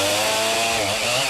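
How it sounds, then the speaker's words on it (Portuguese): A chainsaw cuts steadily in a eucalyptus reforestation plantation on steep, hard-to-reach terrain, its engine whining loud and continuous for the whole moment with no other sound on top. "o tropel da mulada é encoberto pelo som da motosserra"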